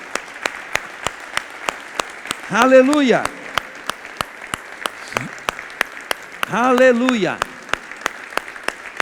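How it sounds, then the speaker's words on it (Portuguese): A church congregation claps in a steady, even rhythm during a Thursday evening service, crisp regular beats throughout, while a voice twice calls out over the clapping. "Vamos dar uma salva de palmas para Jesus?"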